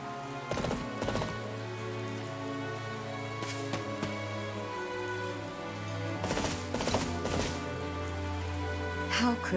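Rain falls steadily in a Fire Emblem: Three Houses game scene, a continuous hiss with scattered sharper bursts and thuds layered over it, moderately quiet throughout.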